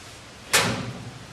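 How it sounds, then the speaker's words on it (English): A short, sharp clack as the lower warming-oven door of a wood-burning cookstove swings open, a single close knock followed by a brief fading rattle. "if you open that lower door, there's a warming oven below."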